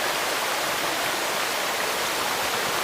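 Creek water rushes steadily among boulders at a hiking crossing on a Shenandoah loop trail, a close, loud, continuous broadband wash with no let-up and no voices.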